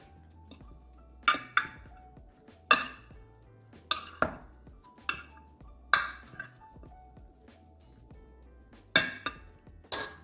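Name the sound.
tossing eggplant slices in a bowl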